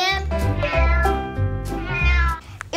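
Two kittens meowing repeatedly and loudly up close, a run of high, tonal cries following one another with short gaps and no talk.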